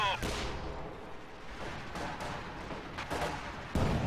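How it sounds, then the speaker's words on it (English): Artillery barrage from an infantry support gun in Company of Heroes 2, with dense rumbling blasts and sharp impacts recurring through the clip and a heavier hit near the end, over constant battlefield noise. "Barrage coming in from the infantry support gun."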